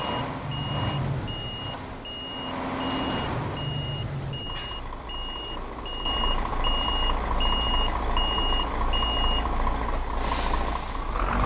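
A Mercedes Axor 2644 truck in the Euro Truck Simulator 2 video game backs up, with evenly spaced reversing beeps over a low diesel engine rumble and a brief hiss of air, no talk.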